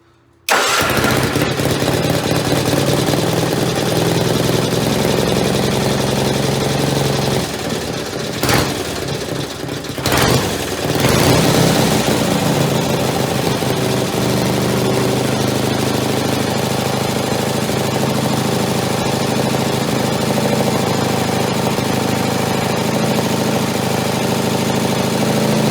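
A repaired Kohler Magnum 18 engine runs loud and steady for the whole stretch, with a brief dip in its roar partway through before settling back into a constant drone.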